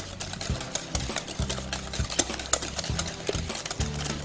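A whisk stirs Crystal Light and Splenda together in a bowl for lemon bars, making a steady, rhythmic scraping and clinking close by with no talking.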